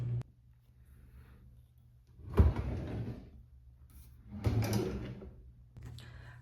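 A top drawer is handled during closet decluttering: two short, loud bursts of sliding and knocking, each fading into quiet rustling, with a softer clunk at the end.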